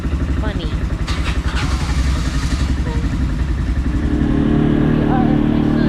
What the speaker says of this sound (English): We're going on an ATV ride.